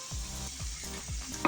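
Spices, tomato, green chillies, coriander and green onion frying for an egg ghotala are mixed with a spoon, producing a steady sizzle broken by three rhythmic stirring scrapes.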